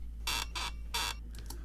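A chair sampled for music production gives several short squeaky bursts, three clear ones and then fainter ones, over a low steady hum.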